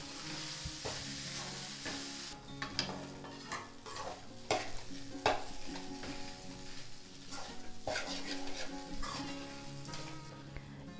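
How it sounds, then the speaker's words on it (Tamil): Leftover idli being stirred into upma in a hot pan: continuous scraping and stirring with repeated spoon knocks over a soft sizzle, close and busy throughout. "சேர்த்துட்டு நல்லா கலந்து விட்டுக்கோங்க."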